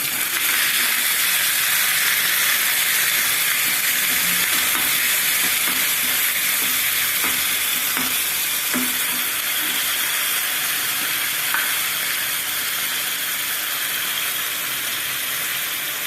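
Steady sizzling of garlic-ginger paste frying in hot oil, with faint stirring scrapes and taps running through it, close and continuous.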